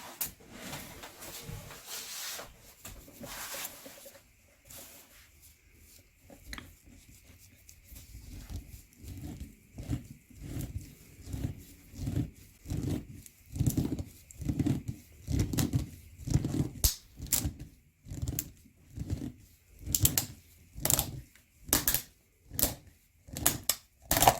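A used ACDelco PF64 oil filter from a 2016 Chevrolet Malibu run on Valvoline oil is cut open with a hand tool, giving a steady run of sharp, rhythmic clicks and crunches that grow louder and more regular.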